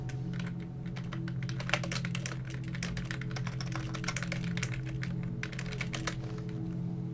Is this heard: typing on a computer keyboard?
yes